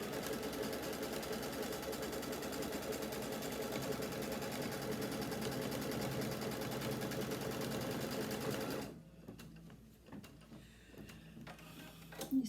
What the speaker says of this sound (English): we're doing the placement stitch for the large piece